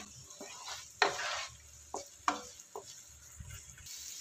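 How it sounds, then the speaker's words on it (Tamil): Green chillies and spices frying in a pot for double beans biryani, with a steady low sizzle broken by a few sharp scrapes and clinks of a spoon stirring against the metal. "இப்போ இது எல்லாத்தையும் நம்ம நல்லா ஃப்ரை பண்ணிடலாம்."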